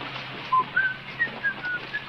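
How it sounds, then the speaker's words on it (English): A man whistles nearby in a Western scene, a short run of thin, high, wavering notes with uneven gaps, heard alone without talk. "If you have to whistle, keep on the tune."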